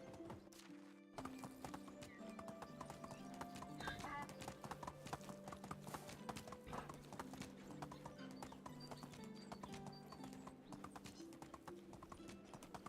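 A ridden horse trots in the medieval game Medieval Dynasty, its hooves clip-clopping in a steady rhythm with an occasional whinny over game music.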